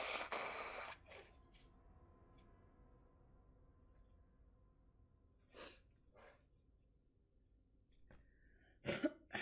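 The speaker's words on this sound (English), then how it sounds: "I gotta blow my nose." Nose blowing into a tissue during a horror game session, a burst of wet, breathy honks near the start, then a couple of brief snorts and sniffs later, fairly close over a quiet room background.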